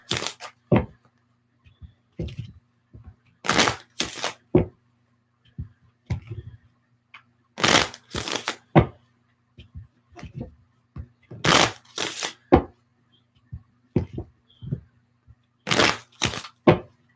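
Playing cards are shuffled repeatedly, close to the microphone: bursts of crisp riffling and bridging separated by short pauses, recurring in an irregular rhythm over quiet background.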